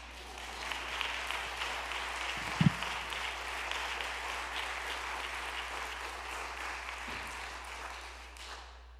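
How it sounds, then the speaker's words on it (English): An audience at a Costa Rica fundraiser applauds teachers, a steady broadband wash of many hands clapping that holds for about nine seconds at moderate distance, with a couple of brief low thumps partway through and no talk over it. "give them all a round of applause"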